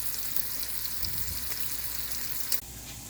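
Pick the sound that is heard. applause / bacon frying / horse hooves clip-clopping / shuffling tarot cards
bacon frying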